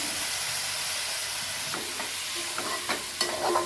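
Half a kilo of tomatoes sizzling in a pan for tomato rice, a steady broadband hiss with a few scraping stirs toward the end, close and fairly loud, no voices.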